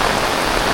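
Heavy monsoon rain in the Konkan countryside falls in a constant, close, loud wash of drops pattering on surfaces, with nobody speaking.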